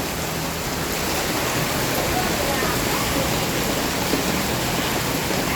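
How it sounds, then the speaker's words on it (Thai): Heavy rain pours down steadily at a house front in Lat Phrao, a dense, even hiss of water that holds constant and loud throughout with no pauses. "ตอนนี้ก็ฝนตกแรงนะคะ"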